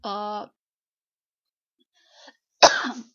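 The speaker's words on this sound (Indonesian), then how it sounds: "maaf Mbak ya lagi batuk" A brief vocal sound, then near silence, then a single sharp, close cough that trails off quickly.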